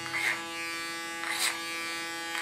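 Electric hair clippers run over a comb while cutting the short sides of a woman's hair, giving a steady close buzz with two brief louder passes as the blade meets the hair.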